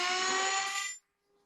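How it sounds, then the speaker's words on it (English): A Dremel rotary tool whines at high speed for wood carving, a loud steady tonal buzz that cuts off abruptly after about a second, leaving near silence. "I'm going to turn on the Dremel."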